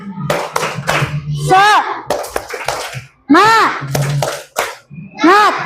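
A primary school class performs a rhythmic clapping chant as an ice breaker, with patterned bursts of claps alternating with loud children's voices calling out in unison, close and lively.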